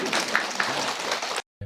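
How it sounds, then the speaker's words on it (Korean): Audience applause at a Daechi-dong math lecture talk event, a dense wash of clapping filling about a second and a half before cutting off abruptly, followed by a brief burst of sound. "박수 한번 쳐주시죠"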